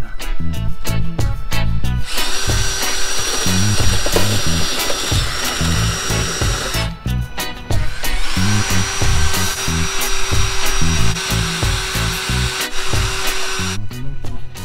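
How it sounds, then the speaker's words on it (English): Power drill boring holes into the metal body of a budget van conversion, two long loud whining runs with a short break, with clicks and knocks of handling between them. "Okay, so the holes are drilled"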